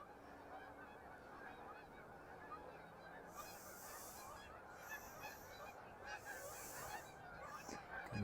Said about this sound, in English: Look at the big skein of geese going across the sky there.